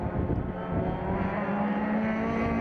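Sports 2000 race cars at Donington roar steadily past from a distance, their engine drone continuous and fairly loud with a sustained tonal whine as several cars approach together.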